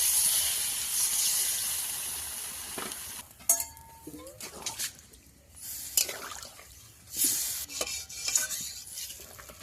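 Water is poured into a pan of sautéed pangas fish curry spices, cooked without onion or garlic. A loud steady hiss and sizzle gives way to quieter stirring scrapes and clinks.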